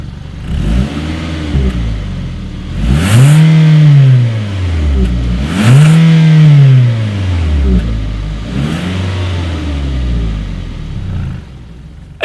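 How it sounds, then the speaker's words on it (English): The exhaust of a 2019 Hyundai Tucson is revved hard twice, each swell climbing and falling back, with lighter blips before and after over a steady idle, loud and close. "As always, here is that exhaust clip."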